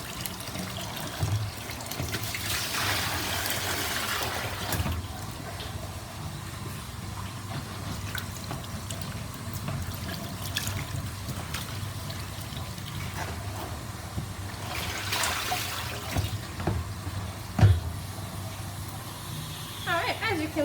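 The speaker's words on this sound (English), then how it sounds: "We're going to dump out this yucky water and give it a good rinse." Water pours and splashes in bursts, then runs and trickles as a water dragon's dish is rinsed, with quieter stretches of handling between.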